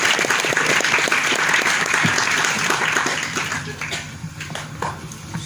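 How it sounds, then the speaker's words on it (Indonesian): Applause rises from an audience at a Halal bihalal gathering held by the NTB regional religious affairs office, a dense crackle of clapping that gradually thins and fades toward the end. "Tepuk tangan dong."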